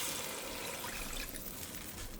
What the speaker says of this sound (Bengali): পানি দিয়ে দিচ্ছি